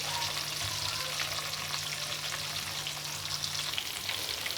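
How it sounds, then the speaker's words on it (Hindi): Stuffed okra (bhindi) spiced achari-style fries steadily over low heat in a pan, a continuous close sizzle with soft crackle and a low hum underneath, no voices. "एक साथ डाल के आप इनको हल्के दम पे भी फ्राई कर सकते हैं"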